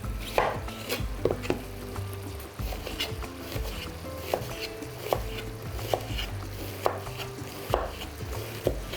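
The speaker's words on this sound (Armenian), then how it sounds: "Սոխը առաջարկում եմ կտրատել փետրաձև։" A knife slices two onions into feather-shaped strips on a cutting board, giving steady, evenly spaced thuds and taps at close range.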